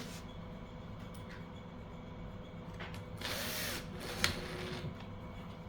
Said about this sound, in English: You can use your drill.